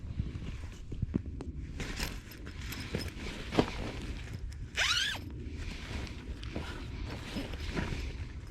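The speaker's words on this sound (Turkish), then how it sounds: "Çift yönlü fermuar var." A two-way zipper on a North Pacific sleeping bag drawn open in one quick, close rasping pull, amid soft fabric rustles and handling scrapes.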